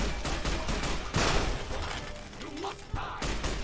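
Bursts of rapid gunfire crackle over a noisy background in the video game Fallout: New Vegas, with a louder volley partway through and a voice in the mix.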